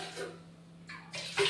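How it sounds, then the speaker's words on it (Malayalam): Water pours into a pressure cooker holding soaked rice and green gram, in brief splashing bursts that grow fuller and louder toward the end, close by and with no talk. "കുറച്ച് വെള്ളം ഒഴിച്ചിട്ട്"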